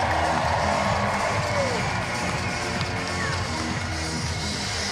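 Full-capacity stadium crowd at Grayson Stadium during a Savannah Bananas game, cheering and clapping loudly and steadily for a five-year-old girl, with shouting voices mixed into the continuous roar.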